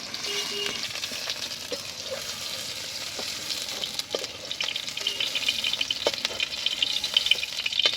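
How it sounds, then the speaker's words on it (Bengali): Steady sizzling of paneer frying in hot oil until reddish-brown, a constant crackling hiss with occasional sharper pops and light scraping, close by. "পনির আমার খুব সুন্দর ভাজা হয়ে গেছে এরকম লাল লাল করে।"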